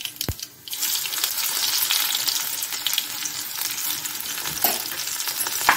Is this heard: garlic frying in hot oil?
yes